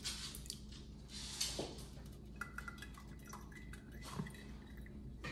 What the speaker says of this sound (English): I'm just going to pour it through a fine mesh strainer